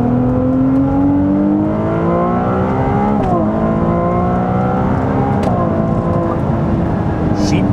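A Ferrari 296 GTB hybrid, pairing an electric motor with a V6, accelerates hard, its loud engine note climbing steadily in pitch through two gear changes, dense and continuous with bright overtones and no talking.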